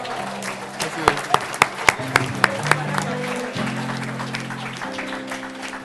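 Church congregation applauding during a French worship service, rhythmic clapping with several sharp claps standing out, mixed with sustained organ or keyboard chords in a reverberant hall.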